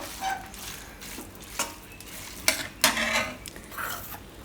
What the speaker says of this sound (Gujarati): એમ આ રીતે મિક્સ કરી લેવાનું બધું